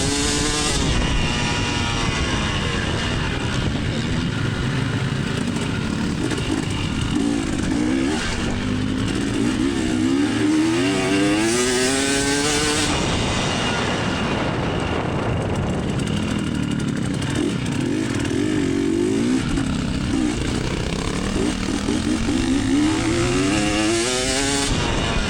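Racing motorcycles roaring around a track at a grand finale event, continuous loud engine whine rising and falling with gear changes as bikes pass close by.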